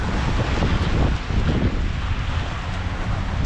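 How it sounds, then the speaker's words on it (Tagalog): Strong wind buffets the microphone outdoors on a Canadian street near a bus stop, a steady loud broadband rush with low rumbling gusts throughout and no talking. "Mas palalo yung hangin mga pa."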